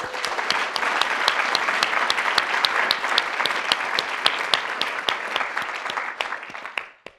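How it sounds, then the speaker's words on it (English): An audience at a business ethics prize ceremony claps in sustained, even applause that fades out at the end. "please join me in a warm round of applause and appreciation for the Botwinick-Wolfson family."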